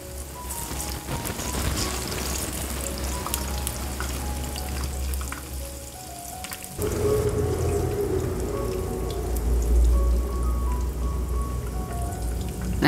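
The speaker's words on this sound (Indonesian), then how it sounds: "tahunya kita goreng sampai setengah matang aja ya" Tofu fries in hot oil with a steady, dense crackling sizzle, close and loud, which swells noticeably louder about halfway through and continues unbroken with no talk.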